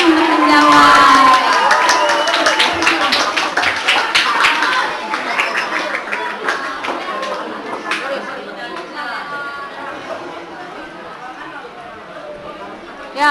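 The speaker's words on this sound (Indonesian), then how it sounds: "Kasih tepuk tangan ya buat temennya ya." Children at an HIV/AIDS and drug-awareness session clap for a classmate who volunteered, mixed with cheering, shouting and busy chatter. The noise is loudest at first, then fades into a lingering murmur of young voices.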